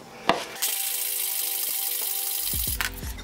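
A rubbing stone is dragged along a chipped, rough tile edge, making one continuous gritty scrape lasting about two seconds, framed by a few light knocks and taps.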